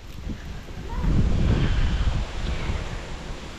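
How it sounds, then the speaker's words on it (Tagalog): Strong wind buffets the microphone in a loud, rumbling roar that swells and eases, with no voices. "Natumba na, lakas ng hangin."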